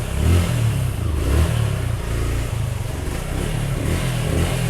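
A motorcycle driven through floodwater on a street in Noakhali town, its engine running at a steady low rumble with slight surges in revs, heard close and continuous with no talk.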